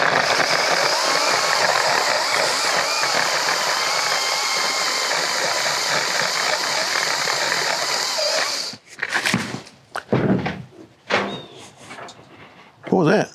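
A battery-powered pole saw cuts a big tree limb outdoors in the wind, a steady loud whirring buzz for about nine seconds, then it stops and is followed by scattered thumps and rustling.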